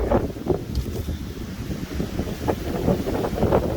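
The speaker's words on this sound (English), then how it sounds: "Windy." Strong gusty wind on a hilltop trek buffets the microphone with low rumbling roar, swelling and easing in uneven gusts throughout, with no talking.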